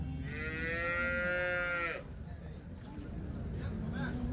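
A cow lows once in a long, loud moo lasting about two seconds at the Chintamani weekly cattle market, amid crowd murmur and general market noise.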